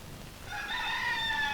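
A rooster crows once at medium distance, a rising then sustained call over a quiet indoor background, with no talk during it.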